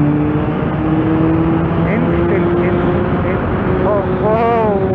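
A 1998 Mk1 Suzuki Bandit 1200 motorcycle engine revs continuously and loudly, with rising and falling engine pitch and short throttle blips near the end, while a voice talks over it.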